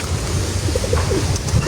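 Pigeons coo softly in short repeated phrases at a feeding spot, set against a steady, noisy outdoor background with no talk.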